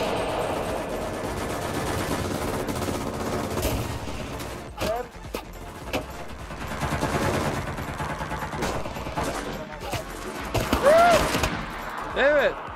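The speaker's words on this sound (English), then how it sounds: "Hey, shots, northeast. Shooting at us." Enemy gunfire in Cuisine Royale: scattered bursts of shots, some near and sharp, others distant, mixed with mechanical clatter and players talking over the battle.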